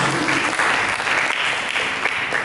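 Church congregation applauding during a sermon, a dense, steady wash of many hands clapping at once, loud and close, with no break across the whole stretch.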